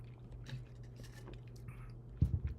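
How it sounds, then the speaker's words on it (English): Someone chews a Clif Bar close by, soft squishy mastication with a few louder wet bites near the end over a low steady hum. "Now I'm chewing this freaking Cliff Bar."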